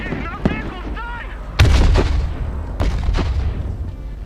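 Heavy artillery and gunfire in the video game Broken Arrow: loud booming blasts at intervals with rumbling tails, plus sharper shots, under an earlier radio-style voice.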